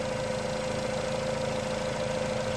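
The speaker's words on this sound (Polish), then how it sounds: "Silnik pracuje naprawdę bardzo ładnie," A car engine idles steadily and evenly with a constant hum and a strong steady tone, continuous and close throughout, with no talk.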